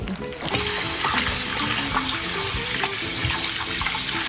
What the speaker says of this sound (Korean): 흐르는 물에다가 몇 번 헹궈주시면 되고